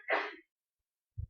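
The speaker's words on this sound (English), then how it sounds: "Gesundheit." One sharp, breathy sneeze in a lecture room, fairly close, followed by silence and a short low thump.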